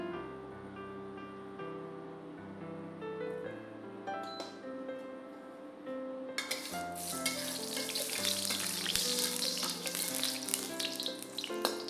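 Oil heats in a hot pan on medium heat, ready for stir frying. A few faint taps come first, then a loud, bright sizzle breaks out about halfway through and holds steady to the end.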